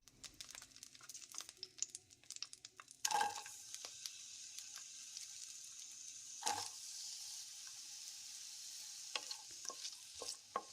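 Onions go into hot oil for tomato chutney and sizzle faintly, with sharp clatters of a spoon stirring the pan and a louder burst of sizzling after they are added.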